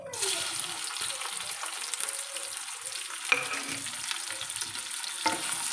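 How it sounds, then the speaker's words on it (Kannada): Chopped tomato, onion and green chili hit hot oil for crab sukka and fry with a bright, continuous sizzle, with a few scraping stirs and spatters along the way. "ಇದನ್ನು ಚೆನ್ನಾಗಿ ಫ್ರೈ ಮಾಡ್ಕೊಳ್ತೇನೆ, ಕೆಂಪಾಗೋ ತನಕ ಈರುಳ್ಳಿ"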